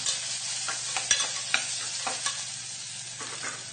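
Tomatoes with soaked chickpeas for pulao sauté in a pan, a soft steady sizzle punctuated by several scraping stirs and light spatula taps, close up without speech.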